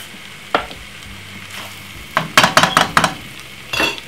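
Corned beef and sweetcorn cooking in a pan give off a steady, close sizzle, broken by a few sharp scrapes and clatters as the food is stirred.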